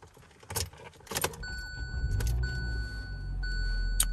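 A 2018 Hyundai Elantra starts up after a few sharp clicks and knocks, then settles into a low, steady idle hum that holds close and even to the end.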